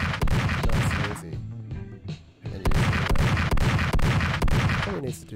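Gunshots from a newly added gun in a game built in the Godot engine, loud booming shots fired in quick bursts, with a short pause in the middle before the firing resumes.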